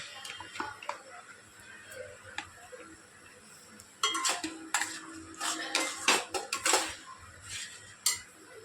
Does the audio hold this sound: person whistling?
no